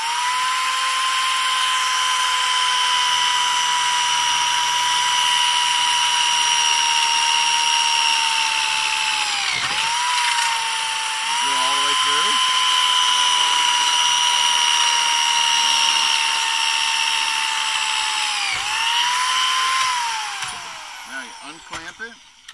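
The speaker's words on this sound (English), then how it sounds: "and you're ready to drill." A drill bores into a steel pipe clamped in a jig against a stop, with a little oil applied, whining steadily and loudly with brief dips as the bit bites, then winding down at the end.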